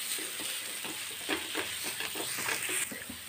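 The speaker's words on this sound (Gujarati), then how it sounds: "સ્ટફિંગને આપણે એકદમ સરસ રીતે લચકા જેવું થાય ત્યાં સુધી આપણે હલાવતા રહીશું" Paratha stuffing is stirred in melted butter in a pan: steady scraping strokes of a spoon over a soft, continuous sizzle, close and moderately loud, with no voices.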